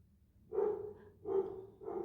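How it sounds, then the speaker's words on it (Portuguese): A dog barks three times, close and fairly loud, each bark a short harmonic burst spaced under a second apart, in a quiet room where a felt Grinch Christmas decoration is being glued. "Se vocês estiverem escutando um latido de cachorro aí, me desculpem que é o meu cachorro que tá participando aqui da gravação hoje."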